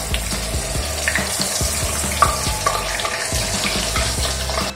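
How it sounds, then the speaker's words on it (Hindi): Onion paste sizzles and crackles in hot oil with cumin seeds in a home kitchen pan for a yam sabzi, a steady close frying hiss with clinks and stirring, no talk. "अब हम इसमें ये जो पेस्ट हमने तैयार किया था ये डाल देंगे।"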